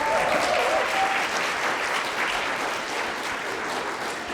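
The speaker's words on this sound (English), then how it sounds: "So if you could stand up so we could give you a round of applause." Audience applause at a teen mental health first aid summit, a steady, fairly close wash of many hands clapping that holds evenly and eases slightly toward the end.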